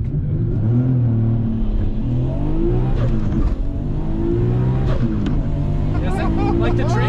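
A big-turbo Nissan R32 GTR accelerates hard from inside the cabin, engine droning loud and rising through the revs with a gear change midway, while people talk over it.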